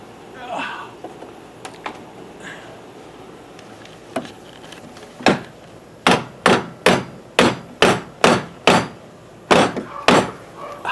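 A hammer taps a wooden part of a DIY Rocken Adventure wooden swing set into place, a couple of scattered knocks and then a quick run of about ten sharp, close, evenly spaced strikes.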